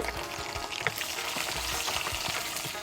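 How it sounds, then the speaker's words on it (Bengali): Nuts crackle and sizzle in hot oil in a pan, a dense, steady frying hiss with scattered pops and stirring scrapes, close and continuous. "আর এখন বাদাম দিচ্ছি, তেলটা গরম হয়ে গেছে।"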